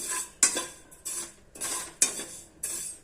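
Sesame seeds dry-roast in a pan for a til-coconut chutney, a spoon scraping and clinking against the pan in separate strokes about every half second, close and fairly quiet with no talk.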